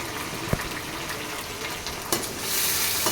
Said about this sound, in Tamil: வெங்காயம் இன்னும் வதங்கலை ஒரு அஞ்சு நிமிஷம் வதங்கட்டும்